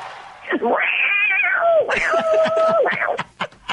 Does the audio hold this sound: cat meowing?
yes